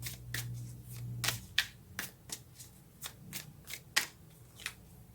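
Tarot cards are shuffled and drawn by hand, producing a rapid series of crisp, papery riffles and flicks in uneven rhythm, close-up and fairly quiet, with no voices.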